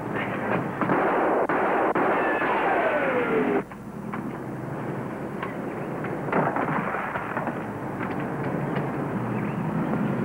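Gunfire in a 1950s Border Patrol drama set in the Everglades: loud, dense bursts of shots and a descending whine over steady background noise, easing at about four seconds then continuing more sparsely, with no talk.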